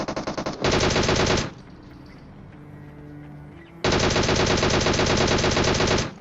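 Automatic gunfire in PUBG, the battle royale shooting game, comes in two loud, sustained bursts of rapid shots with a quieter lull of faint background game sound between them.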